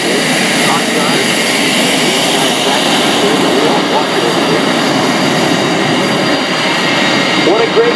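An F/A-18F Super Hornet roars through a demonstration at the 2017 Rhode Island Air National Guard open house airshow. The loud, sustained jet noise fills the air while an announcer talks over it.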